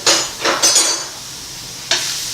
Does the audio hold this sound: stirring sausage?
yes